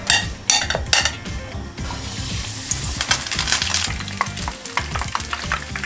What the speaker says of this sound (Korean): 노르스름해질 때까지 좀 튀기고